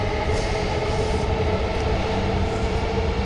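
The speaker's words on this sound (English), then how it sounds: "we're going to the main train station" A train rumbles steadily at a Japanese railway station, a continuous low drone with faint rail noise, close and even throughout, with no talking.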